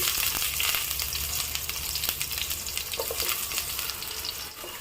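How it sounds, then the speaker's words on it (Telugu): Onion pieces frying in a couple of tablespoons of oil for mutton dum biryani, a steady close sizzle that holds at an even level throughout, with no voices. "ముందుగా కొన్ని ఉల్లిపాయ ముక్కల్ని నేను ఫ్రైడ్ ఆనియన్స్ కింద వేయించుకుంటున్నాను"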